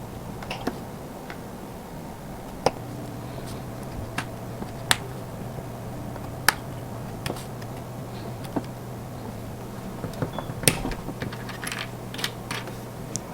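Scissors cutting out paper shapes for a paper hidden blade craft: a steady series of small, crisp snips and clicks close up over a faint hum, with no talk.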